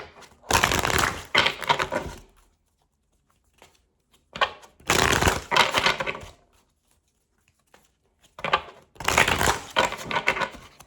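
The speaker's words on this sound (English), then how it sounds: "We are going to shuffle up our cards and say our prayer first" Tarot cards shuffled by hand in three separate bursts of riffling and rustling, each lasting about a second or two, close and fairly loud, with quiet pauses between and no talking.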